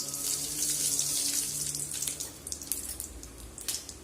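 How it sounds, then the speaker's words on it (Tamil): Mustard seeds crackle and sizzle in hot oil in a pan while tempering for kollu rasam, a dense bright hiss with scattered pops that thins out toward the end, heard alone and close. "இதில் கொஞ்சமாக கடுகு சேர்த்துக்கலாம்."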